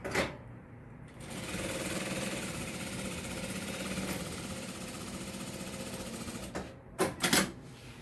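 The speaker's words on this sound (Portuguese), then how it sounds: "Passo a outra costurinha na beirada." A sewing machine runs a seam along the edge of fabric in one steady, close, rapid stitching stretch lasting several seconds, then stops with a few clicks and handling sounds.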